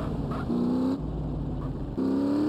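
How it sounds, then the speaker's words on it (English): A motorbike engine in GTA San Andreas Definitive Edition revs in two rising pulls, a steady buzzing drone climbing in pitch each time, separated by a short dip, loud and near with no talking. "Man, I do like the engine on this bike. I like the sound that it makes."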